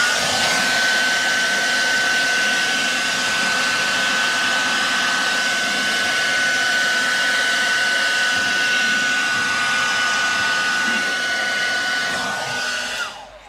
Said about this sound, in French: Peut-être un coup de sèche-cheveux,